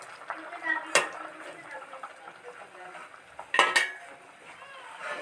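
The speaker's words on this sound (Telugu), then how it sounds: "టమాటా వేసుకొని కలిపేసుకుందాము" Tomatoes are stirred into a wild curry leaf curry in a pot, with scraping clinks of a spoon against metal, two sharper knocks, and soft bubbling, while a person speaks nearby.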